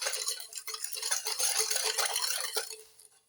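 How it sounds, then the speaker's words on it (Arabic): A no-bake dessert mixture with vanilla being stirred in a bowl, a close, steady run of scraping and light clinking strokes, fading out at the end. "نخلطوا هادشي مع بعضياتو مزيان"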